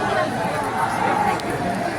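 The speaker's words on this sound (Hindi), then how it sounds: "ये देखो भीड़, आगे बढ़ते जा रहे हैं हम लोग और इसके बावजूद भी इतनी भीड़ है।" Dense chatter of a large crowd of pilgrims packed into a long queue at a famous temple, a steady unbroken hubbub of many overlapping voices close around.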